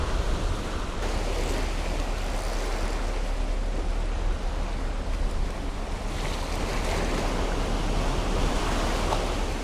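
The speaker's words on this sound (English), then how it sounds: "Got some pretty big swells today." Big ocean swells breaking against the rocks at Surfside Jetty, a steady, loud wash of surf roaring without a break, with wind buffeting the microphone.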